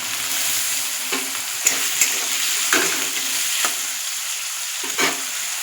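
Potatoes sizzle steadily in a hot pan, with a few sharp scraping stirs and clinks of the spoon breaking through the continuous frying hiss; close and fairly loud, no talking.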